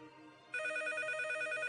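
A telephone breaks a quiet room with a sudden, loud ringing tone that keeps going steadily after the short lull.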